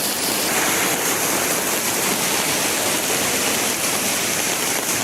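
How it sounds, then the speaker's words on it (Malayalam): Rainwater released from an excavated hillside rushes toward homes in a residential area, a loud, steady roar of flowing water without pause or voices. "മണ്ണെടുപ്പ് നടന്ന കുന്നിൽ നിന്നും ജനവാസ മേഖലയിലേക്ക് മഴവെള്ളം തുറന്നുവിട്ടു"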